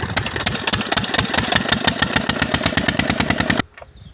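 A Peter diesel engine powering a farm tube well, running with a fast, even chugging beat, loud and close, then cutting off abruptly near the end.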